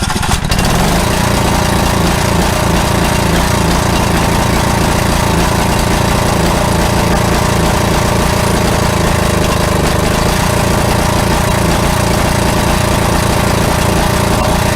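A lawn mower engine running after repair, a loud, steady, close-up mechanical roar that starts abruptly and holds unbroken for the whole stretch with no talking.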